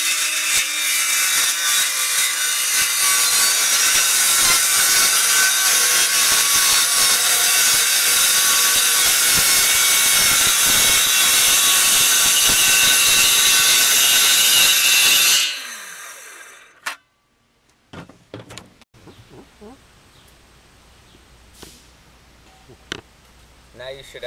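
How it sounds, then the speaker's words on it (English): A circular saw cuts through a sheet of plywood for a cruiser skateboard, a loud continuous whining rip for about fifteen seconds that cuts off abruptly, followed by quiet with scattered knocks and handling noises. "I'm using a circular saw for the cut."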